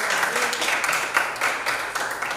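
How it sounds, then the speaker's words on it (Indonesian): A classroom of students claps for a classmate, a brief, moderately loud patter of many hands at close range that stays fairly even throughout. "Ya, tepuk tangan untuk Chandra."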